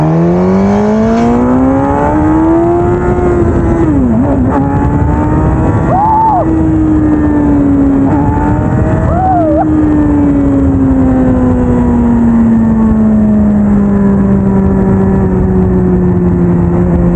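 A 2020 Suzuki Katana 1000 motorcycle engine while riding, loud and close, its pitch climbing through revs with gear-change dips, then settling into a steady drone for the rest of the ride, with no talking.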